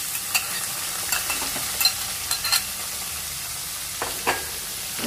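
Onions sautéing with fenugreek in a pan for chicken gravy, a constant hiss of frying with intermittent scraping taps as they are stirred, no one speaking.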